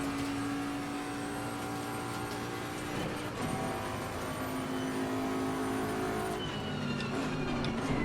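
A GT3 race car engine in the racing simulator Assetto Corsa Competizione hums steadily as the driver weaves between AI cars, a sustained mid-level drone with shifting pitch and a brief surge partway through.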